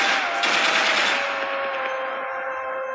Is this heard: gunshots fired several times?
yes